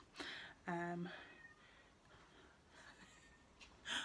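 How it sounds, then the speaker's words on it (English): A cat gives a short, distant meow amid quiet room tone, followed by faint, muffled noises. "I can hear my cat downstairs being really noisy."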